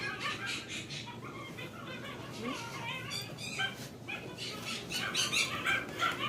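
Several dogs whimper, yip and make soft vocal noises indoors, a continuous restless murmur of small sounds heard near and at moderate level.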